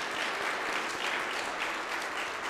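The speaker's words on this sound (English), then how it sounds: "Let's give them one more round of applause." Church congregation applause at a Palm Sunday worship service, thanking children and musicians, a steady dense wash of many hands clapping, even and unbroken throughout, fairly distant.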